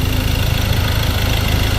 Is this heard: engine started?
yes